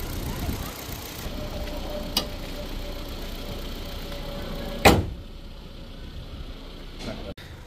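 A Ford Figo petrol car with an engine misfire idles very quietly after starting, a faint, steady low hum, broken by a sharp door thud near the middle while someone talks nearby.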